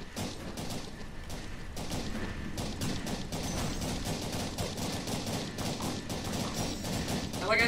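Rapid, continuous gunfire rattles from a tank-plane in the game Flappy Tankplane, dense repeated shots and booms forming a steady loud barrage throughout.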